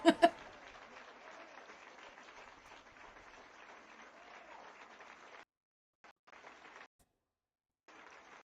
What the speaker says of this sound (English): Can you guys hear the clapping audio?